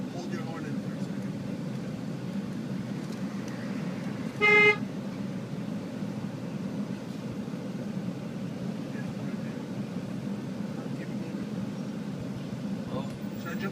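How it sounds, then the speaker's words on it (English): A car horn gives one short toot inside a vehicle driving on a bridge, standing out briefly over a steady road rumble. "Hold your horn in for a second."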